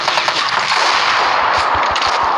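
Video game gunfire rattles out in a fast, loud burst of closely spaced automatic shots, steady and continuous for the whole stretch, with no talking.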